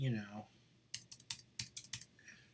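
Keys on a computer keyboard clatter in a quick burst of about a dozen light clicks as figures go into a spreadsheet, following a brief spoken word at the start.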